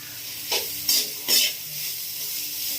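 Vegetables for egg fried rice, made with karunkuruvai rice, stirred in a hot pan, with three distinct scraping strokes over a steady low sizzle that carries on alone afterward.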